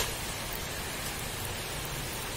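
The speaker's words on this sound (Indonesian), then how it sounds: "Wah, hujan nih" Rain comes down as a soft, continuous hiss with no breaks or distinct drops, fairly quiet and even, and no one speaking.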